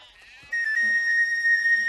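Sheep and goats bleating at a well, a single sustained nasal bleat starting abruptly and holding steady, close and fairly clear against a quiet background.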